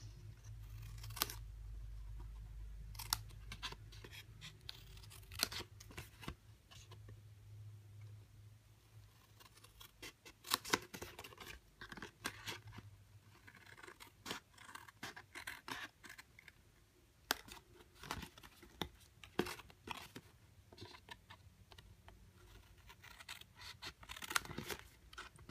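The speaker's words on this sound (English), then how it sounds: "just using my paper snips, I'm just going to go ahead and cut out those pieces" Paper snips cutting out paper pieces for a treat box, a quiet run of close, crisp snipping and rustling clicks in irregular rhythm, with no talk.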